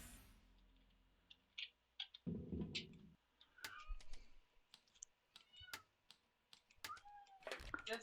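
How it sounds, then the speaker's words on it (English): A pet cat meows a few short times, faint and close, among scattered keyboard clicks and typing in a quiet room, with occasional soft talking nearby. "This cat."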